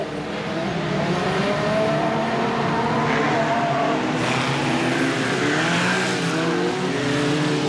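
BriSCA Formula 1 stock cars race at Boston in 1991, their engines roaring loud and continuous with overlapping harmonic drones as several cars pass close by.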